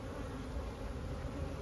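Honeybees swarm around urban beehives in Paris, a steady close buzzing hum filling the air without pause.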